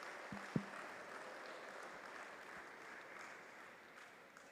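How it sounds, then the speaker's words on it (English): An audience at a basketball referee clinic claps together, a soft, distant wash of applause in a large room, with a couple of sharper knocks near the start. "Come on, clap, everyone."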